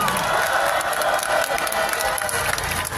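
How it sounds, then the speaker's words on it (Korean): Crowd at an outdoor candlelight rally, loud, dense and continuous for the whole stretch, with a broad wash of clapping and cheering and some voices mixed in. "정은만 위원장님께 다시 한번 큰 박수 부탁드립니다."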